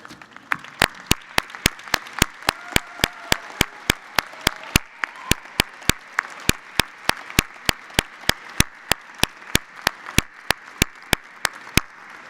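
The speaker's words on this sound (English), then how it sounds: "give them a big thank you, a big round of applause" Commencement audience applauding families of graduates in a large hall, a steady wash of many hands clapping that holds evenly for about twelve seconds, with sharp rhythmic claps standing out above the crowd.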